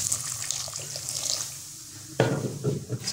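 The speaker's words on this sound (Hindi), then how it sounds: "अब इसमें मैं दूध इतना शामिल करूँगी कि ये सूजी जो इसके अंदर अच्छी तरह डीप हो जाए" Hot milk poured into semolina for a rasgulla batter, a soft liquid stream in a kitchen that starts abruptly near the end and runs briefly with splashy texture, following a quieter stretch of faint background hum.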